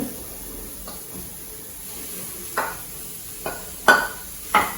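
Potato stuffing with coriander being sautéed in a pan: a quiet background sizzle with several distinct spatula scrapes and stirs, growing a little louder toward the end.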